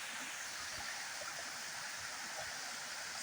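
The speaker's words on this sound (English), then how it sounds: "this is the waterfall." The Uyalla waterfall pours in a steady, even hiss of falling water, heard from a moderate distance, faint but unbroken throughout.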